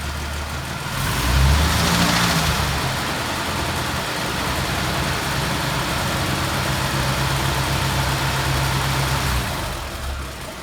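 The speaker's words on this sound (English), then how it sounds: "I'm going to rev it up again." A vintage Mopar car engine idles close by with a steady low rumble, revs up briefly near the start, then holds a raised, even drone before dropping back down at the end.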